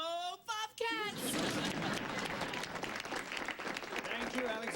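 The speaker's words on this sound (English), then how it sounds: "Let's give her a big round of applause" Studio audience applause for a TV correspondent at a school event, a dense sustained wash of clapping that swells after a brief opening voice and holds steady at full strength.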